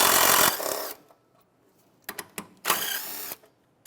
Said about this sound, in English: we'll take out these two bolts